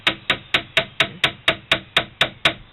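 A small hammer taps pins into a wooden knockdown box, eleven sharp, close knocks in a steady, even rhythm with short ringing decays and no talking.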